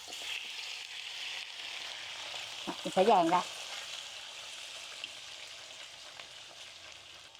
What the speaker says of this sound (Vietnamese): bây giờ mình sẽ cho phần sườn non vào áp chảo